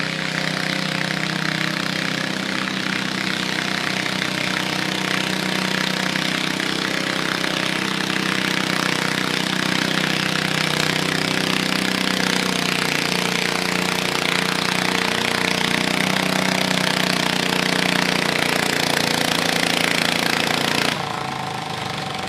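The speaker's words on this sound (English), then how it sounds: "Blue tractor, orange sled." A stock 16 garden tractor pulls an orange sled at a county fair tractor pull, its engine roaring loud and steady under strain for about twenty seconds before cutting off abruptly.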